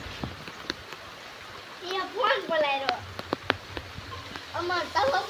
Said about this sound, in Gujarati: આવે હે વરસાદ